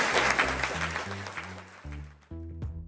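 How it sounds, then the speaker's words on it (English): Audience applause at a school awards evening: dense clapping for about two seconds that thins out and fades as a few musical notes take over. "I want a round of applause, please, for all of your children, your wonderful children"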